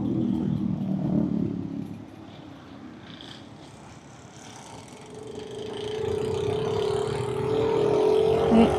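A motorised tricycle passes near a road barrier, heard from inside a motorcycle rider's helmet: an engine drone that dips, then swells and rises in pitch as it draws close, over steady wind and road rumble.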